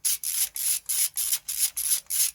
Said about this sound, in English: in order to remove the coil pack, we are using a T30 bit